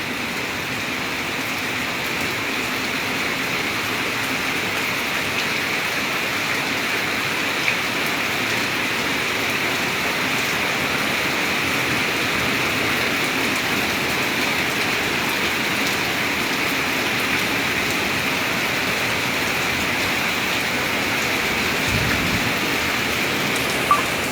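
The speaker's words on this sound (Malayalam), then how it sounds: "ഒരു 2ാം ഘട്ട മഴയുടെ ഒരു ആരവം കേൾക്കുന്നുണ്ട്" Heavy afternoon rain at Anakkal, Kanjirappally, Kerala, pours down steadily, a dense, even hiss that holds for the whole stretch, with a couple of faint knocks and no voices.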